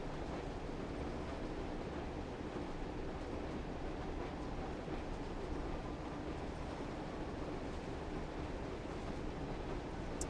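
A Class 101 diesel multiple unit running in the Train Sim World 4 simulator, giving a steady, continuous rumble of engine and wheels on rails that holds at an even level throughout, with no talk.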